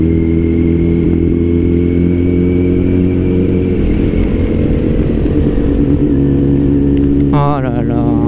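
A motorcycle engine hums steadily in a small traffic jam, with other vehicles rumbling around it and a brief squeal near the end.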